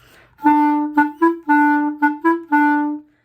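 A clarinet plays a short phrase alone, mixing crisp, clipped staccato notes with fuller held tenuto notes, clear and close.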